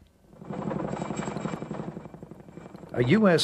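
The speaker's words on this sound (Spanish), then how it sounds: "Un helicóptero de la Armada norteamericana les fue enviado para subir los restos y sacarlos del barranco" A US Navy helicopter hovers over a ravine to lift out a packed dinosaur skeleton, its rotor thumping steadily at moderate loudness before a voice briefly speaks over it at the end.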